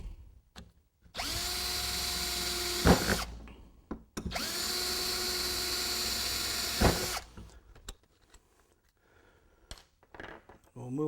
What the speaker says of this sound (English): The 1/8 inch drill, simply start drilling.